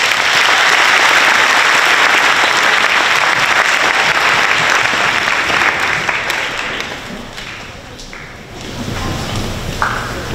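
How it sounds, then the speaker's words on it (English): A school assembly audience applauds middle school students at a Martin Luther King Jr. event, loud dense clapping that holds steady and then thins and fades toward the end. "let's give our middle school a round of applause"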